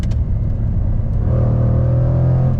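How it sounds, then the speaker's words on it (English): A 2021 Jaguar F-Pace SVR's supercharged V8 roars and builds as it accelerates, a deep rumbling growl rising in pitch with a droning tone, no voices. "This thing with the big old V8 and a supercharger."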